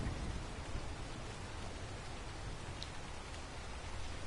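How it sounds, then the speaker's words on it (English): Steady rain falling in the survival video game ARK, an even hiss of continuous drops across the whole stretch, moderately loud with no talk over it. "At least the rain stopped."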